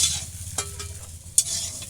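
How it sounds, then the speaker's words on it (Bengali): Potatoes fry in a pan while a spatula stirs them, with a couple of sharp scraping strokes over a constant close sizzle; no one speaks. "দেখো আমার আলু ভাজাটা হয়ে গেছে, আমি আলু ভাজাটাকে নামিয়ে নিচ্ছি।"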